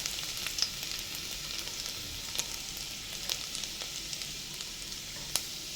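Ginger pieces sizzle in hot oil in a heated pan while cooking palak quinoa khichdi, a steady bright crackle with a few sharp pops, close and continuous, no voices.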